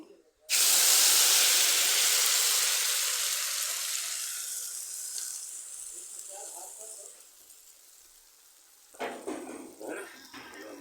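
Eggs are poured into hot oil for fried eggs, bursting into a sudden loud sizzling hiss that slowly fades as they cook. A voice and some clattering come in near the end.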